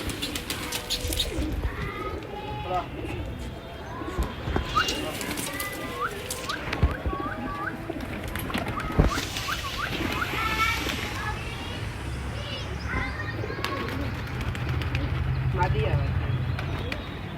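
Pigeons coo and flutter nearby, their soft throaty calls repeating amid rustling and light splashes, with people talking over them, from a flock of about 30-40 pigeons.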